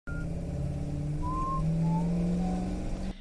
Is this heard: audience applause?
no